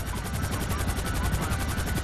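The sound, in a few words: helicopter in video game GTA V Online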